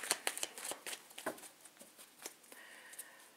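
A deck of tarot cards is shuffled by hand in a quiet room. Soft, quick riffling taps and slides come in uneven bursts at close range, fairly faint, with no one talking.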